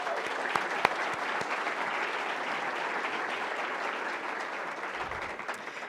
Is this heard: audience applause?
yes